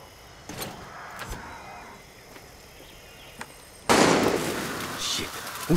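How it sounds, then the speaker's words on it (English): Gunfire in Far Cry 6 cracks out as a few sharp distant shots, spaced apart. Then a louder, sustained burst of noisy fire or blasts breaks out near the end, and there is a hint of voices. "Who's shooting?"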